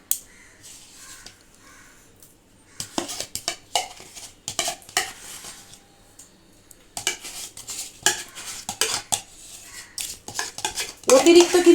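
Chicken tandoori marinade with yogurt and ginger-garlic paste being mixed by hand in a bowl at home, producing close, irregular wet squishing, scraping and clinking sounds in bursts with quiet pauses between.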